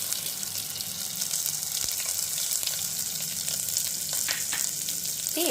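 Dried red chillies, onions, garlic and lentils frying together in a pan, a dense continuous close sizzle with faint occasional utensil clicks and no talking.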